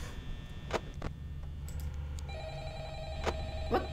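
A telephone rings in a Five Nights at Freddy's fan game set in Fantasy Freddy's on night 4, with a few sharp bursts over a steady electronic hum and no speech.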